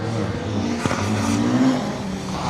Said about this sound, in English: Little front-wheel drive car.